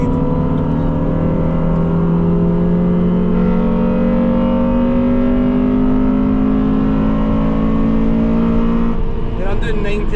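On a first track day, a car's engine drones loud and close as it accelerates with a steady rising pitch for most of the stretch, then cuts off with some rattling near the end.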